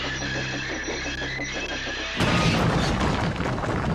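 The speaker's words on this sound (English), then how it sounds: "Percy smashed the cart to smithereens," A sudden heavy crash bursts in partway through as a train smashes through a wooden cart loaded with lime, followed by a dense, noisy clatter of splintering debris over a rumbling background.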